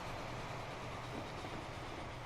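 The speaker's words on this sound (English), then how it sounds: "Oh, it's another train on another line." An electric train rolls by steadily in the Transport Fever game, a continuous broadband rumble with a faint rhythmic wheel clatter, fairly quiet and unbroken.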